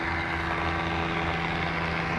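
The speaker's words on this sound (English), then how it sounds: "Sorry about the noise, big old boats there pulling in." Big old boats pulling in on the River Ant at Stalham in the Norfolk Broads, a steady low engine drone with a constant hum, fairly close and continuous throughout with no talking.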